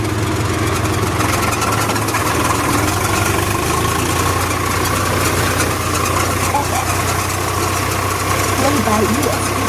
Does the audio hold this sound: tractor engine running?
yes